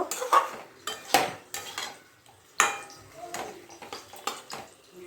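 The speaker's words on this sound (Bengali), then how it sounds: "এবার আরেকটু কষিয়ে নেব" Potato curry (aloo dum) being stirred and sautéed in a pot, with a string of sharp close clinks and scrapes of a metal spoon against the pot separated by brief quiet gaps and a faint soft hiss.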